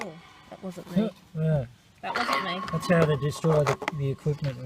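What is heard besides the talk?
No distinct noise like a dog, phone or traffic.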